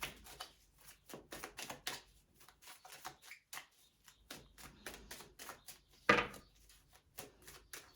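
Tarot cards are shuffled close up, giving rapid runs of crisp papery flicks and taps in uneven bursts, with one sharper snap near the end.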